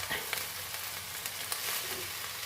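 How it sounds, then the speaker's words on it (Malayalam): Ghee rice frying and being stirred in a pan, a dense close sizzle with soft scraping stir sounds throughout. "അപ്പം ഇനിയൊന്ന് ഇളക്കി കൊടുക്കുക."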